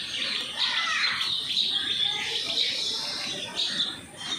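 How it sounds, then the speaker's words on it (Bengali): Pigeons, including a young bird and a female, landing on a rooftop loft, with soft coos and bird calls close by over a steady hiss of birdsong and chirping, no talk. "কার এক পিস পায়রা এখানে এসে নেমেছে"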